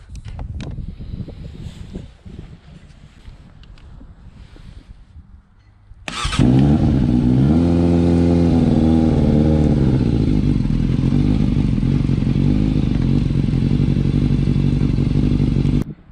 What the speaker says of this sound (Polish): Silnik zapalił od razu.